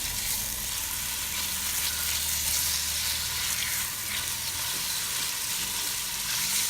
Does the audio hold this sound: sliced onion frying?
yes